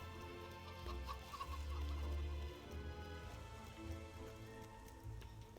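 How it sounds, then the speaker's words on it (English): Chickens cluck in a Fable 3 village, faint and somewhat distant, over a steady patter of rain and a low ambient hum, with no talk. "there's some more chickens this way"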